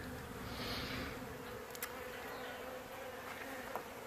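Honeybees from a hive kept in an old shed drone in a steady, dense buzz, close and continuous throughout, with a few brief wingbeat swells as individual bees pass near.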